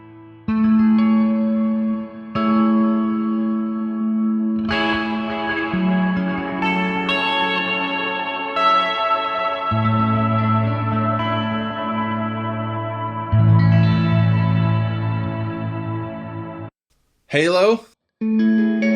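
Electric guitar played through the modulation effect of a Line 6 POD Express amp modeler, sustained chords shimmering with chorus-like wobble and echo, loud and continuous, then a brief pause and a short burst near the end.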